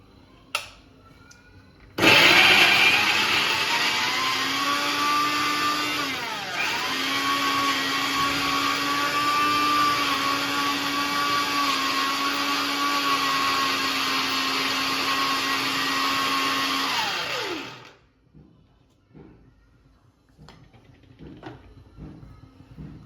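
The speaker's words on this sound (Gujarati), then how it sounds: "તો એકદમ બીટ પીસાઈ ગયું છે" A kitchen mixer grinder purees beetroot for homemade beet and rose soap, a loud, close, continuous whir running about fifteen seconds with a brief dip in pitch before it winds down and stops, with no talking.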